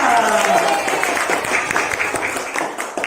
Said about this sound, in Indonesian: tepuk tangan buat teman saya